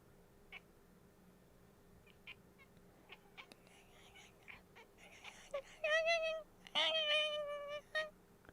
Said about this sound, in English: Ooh. Cat chirping.